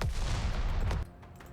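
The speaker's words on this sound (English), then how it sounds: "More massive explosion shockwaves reverberate around her" Massive video-game explosions from Goddess of Victory: Nikke burst out in a dense, booming barrage with rumbling shockwaves for about a second, then fall away to a fainter rumble.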